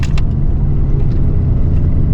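A Citroën AX car engine pulls steadily as the car takes a curve, a loud, constant low rumble filling the whole stretch, with a couple of brief light rattles near the start.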